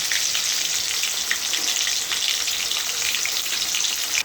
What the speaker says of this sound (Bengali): ছাকা তেলে ভালো করে ভেজে নিয়েছি মাথাটাকে। এবার মাছগুলো ভেজে নেব।